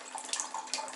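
Water runs from a shower and bath tap while the valve is being changed out in a renovation, a steady rushing hiss close by with small fluctuations and no voices.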